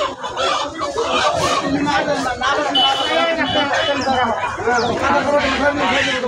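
Chickens cluck loudly and continuously at a village poultry market in Ashulia, with overlapping calls and a brief rooster-like squawk, while people talk nearby throughout.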